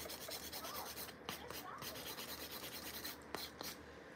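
A nail file rubs across fingernails while colorful tie-dye duck nails are prepared, giving a steady, close rasping scrape throughout with a few brief sharper strokes.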